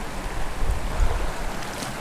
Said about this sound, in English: now we are getting to this pool and the little waterfall